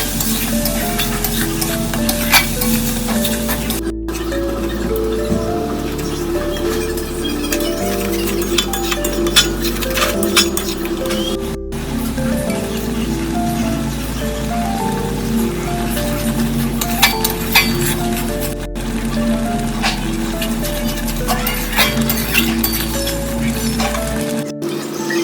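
Meat with spices being stirred and fried down in a pan, with a continuous close sizzle, frequent scraping and occasional clinks of the spoon against the pan.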